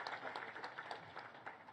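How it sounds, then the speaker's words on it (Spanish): A short burst of applause, many hands clapping in a quick, even patter at moderate distance. "ya que estás aquí, Carlos, te damos un aplauso"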